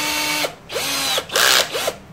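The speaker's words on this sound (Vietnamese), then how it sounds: "có một khoan mà, là máy khoan tay" Handheld power drill with a 6 mm bit, used while fitting a headlight into a Honda Winner front cowl, whines in several close, loud bursts that rise and fall in pitch, separated by short pauses.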